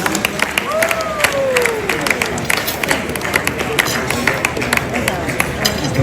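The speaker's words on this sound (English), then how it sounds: "Please, it's yours for the applause." Applause from a crowd at a royal event for Otumfuo Osei Tutu II rattles on steadily in a dense wash of clapping, with voices mixed in beneath it.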